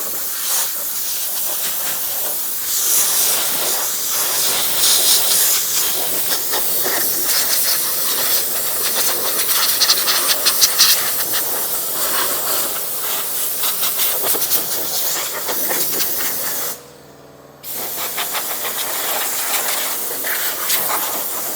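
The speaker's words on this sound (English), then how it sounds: "So we'll just use forced air and work that out." Forced air blasts water out of a car engine bay, a loud steady hissing rush with small pulses, cutting off briefly near the end before resuming.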